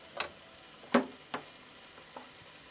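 Carrots, cabbage, green peppers and onions hit a hot pan for chicken soup, giving a few short sizzling bursts with a louder crackle near the middle, faint and close, with no talking.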